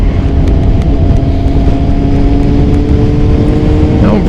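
A 2000 Kawasaki ZX6 motorcycle being ridden, its engine a loud steady drone with heavy wind rumble buffeting the microphone, close and continuous with no distinct tire squeal standing out.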